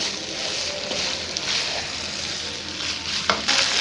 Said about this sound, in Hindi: यहाँ पे हम अच्छे से इसकी मिक्सिंग करेंगे और पास्ते की इसके साथ ही भुनाई भी हो जाएगी